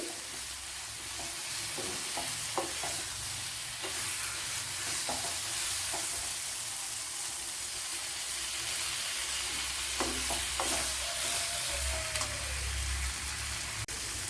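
Coriander powder fries and sizzles in a pan for a curry, a steady close hiss with occasional scraping stirs throughout.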